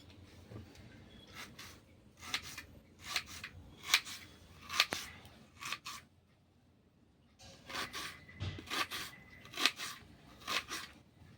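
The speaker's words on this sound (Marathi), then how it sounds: "तर कांदा कापते. बारीक कापून घेते." An onion being finely chopped with a knife on a board, heard as two close bursts of quick, crisp cutting strokes in steady rhythm, separated by a short pause.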